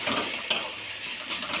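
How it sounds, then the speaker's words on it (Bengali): Ginger garlic paste, chopped tomato, turmeric, chili and cumin powder frying in a pan, giving a steady close sizzle with one brief scrape of a spoon stirring, and no talking. "দিয়ে দিয়েছি হলুদ, লঙ্কার গুঁড়ো আর জিরে গুঁড়ো নিয়ে দেওয়ার পরে ভালো করে আমি এটাকে ফ্রাই করে নিচ্ছি।"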